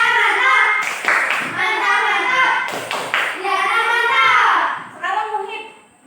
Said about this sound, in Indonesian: Tepuk tangan buat Liana.